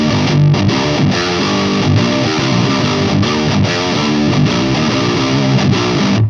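Fuzzy, heavily distorted metal guitar played through a Fryette Deliverance tube amp, a dense sustained wall of crunchy riffing with brief chugging pauses, loud and close with no voice.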